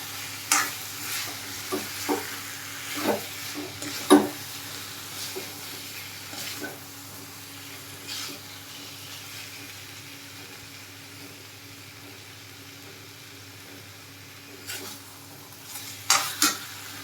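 Chicken curry with skunkvine leaves and garam masala powder being stirred in a pan, scattered sharp scrapes and clinks of the spoon against metal over a faint sizzle, with a long quiet stretch between bursts.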